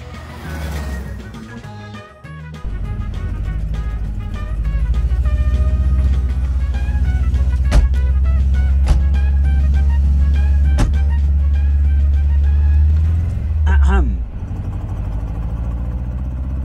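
A Porsche 356 Speedster replica, built from a VW Beetle, pulls steadily in third gear with a loud, continuous air-cooled engine drone, briefly easing near the start and end with faint clicks over the rumble.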